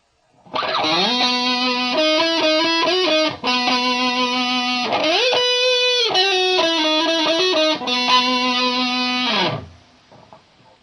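A loud electric guitar through a Line 6 M5 stompbox modeler's heavy distortion plays sustained, buzzing chords and sliding notes for several seconds, then cuts off into silence.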